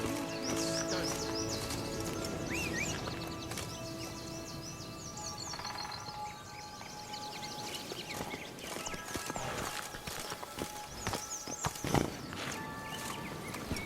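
Geralt's horse Roach in The Witcher 3 clip-clops along in a steady hoof rhythm, with a couple of whinnies and bird calls over game music, all fairly quiet and continuous.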